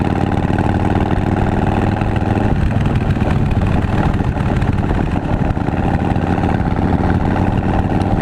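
A Harley-Davidson Breakout with a big bore engine runs steadily at idle, a loud, continuous, close-up rumble with a slight shift in tone partway through.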